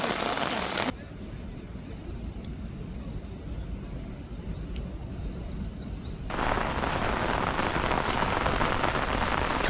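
Heavy rain pours at Gyeongbokgung Palace beside the Gyeonghoeru pavilion walls, a dense steady hiss of drops on surfaces that eases slightly for a few seconds before swelling back to a full downpour.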